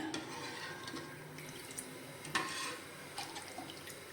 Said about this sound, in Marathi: मी थोडं ह्याच्यामध्ये गरम पाणी करून थोडंसं घालणार आहे